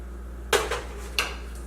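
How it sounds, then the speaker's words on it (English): Olive oil goes into a cooking pan for a vegan chickpea curry: a sharp metallic clank of the pan, a lighter follow-up tap, then a second clink about half a second later, close and clear with no talking. "So the first thing that I'm going to do is put some olive oil into my pan."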